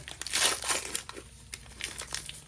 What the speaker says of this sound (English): watching me rip some foil